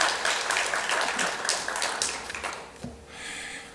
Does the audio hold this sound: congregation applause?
yes